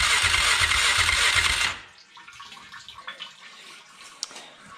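A 1999 Polaris Sportsman 500 ATV engine turns over on the starter after a fuel pump swap: a loud, rough cranking whir with low pulsing for under two seconds stops abruptly, leaving faint clicks and handling noises.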